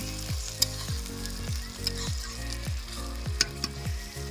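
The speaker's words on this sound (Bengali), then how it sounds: "মিক্সড করে তারপরে আলু দেওয়া হবে তারপরে চিকেন দেওয়া হবে ভালো করে মিক্সড করে নিচ্ছে" Chicken and potatoes are stirred in a hot pan for a chicken curry, giving a rhythmic series of scraping strokes over a steady close sizzle, with occasional sharp clicks of the utensil.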